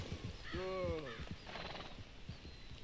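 A horse in the video game Red Dead Redemption 2 gives one clear, quavering neigh, with scattered hoof clops and small thumps around it, all fairly quiet and close.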